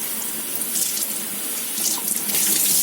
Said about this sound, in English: So we'll just give it a quick rinse.